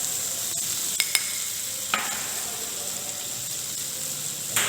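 Potatoes stirred with salt and white pepper in a hot pan, a steady frying sizzle broken by a few sharp scrapes and knocks of the spoon against the pan.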